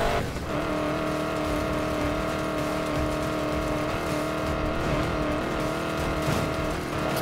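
Ford Mustang driven through the desert in Need for Speed Payback, its engine droning steadily and loud throughout, with sustained revving tones and faint tire noise, no talk over it.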